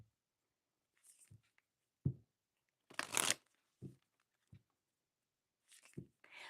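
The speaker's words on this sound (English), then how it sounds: "I'm going to pull some Moonology cards" Moonology oracle cards being shuffled by hand: several short, close riffling bursts with quiet gaps between them, one longer and louder riffle in the middle.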